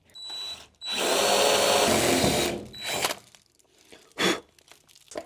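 A power drill whirs loudly in one long burst of nearly two seconds, then runs again in two shorter bursts, with quiet gaps between, during an HVAC installation.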